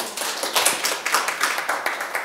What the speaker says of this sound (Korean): 저희 서 대표님 박수로 청해.